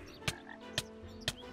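A Minecraft frog croaks three times at an even, unhurried pace, each croak short and clear against a quiet game background.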